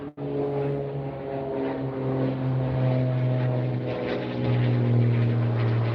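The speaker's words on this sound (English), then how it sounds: "Yes, that's definitely a jet engine." A jet engine passing overhead, a loud continuous roar with a steady low drone and humming tones that hold for the whole stretch, swelling slightly toward the end, with no talking.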